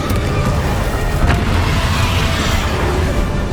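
Confringo fire spell blast in the Hogwarts Legacy video game, a loud dense booming burst of explosive rumble filling the stretch with one sharper crack near the middle.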